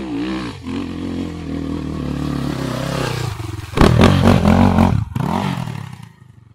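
An enduro motorcycle engine revs on a mountain trail, rising and falling in several loud, close bursts with a harsh roar and some clatter, ending abruptly.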